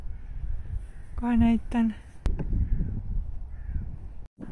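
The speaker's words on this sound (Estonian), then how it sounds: "Nii palju vareseid on siin." Crows at Stroomi beach park in Tallinn, Estonia, give two loud, close caws in quick succession, followed by a sharp snap and outdoor rustle while a person speaks briefly.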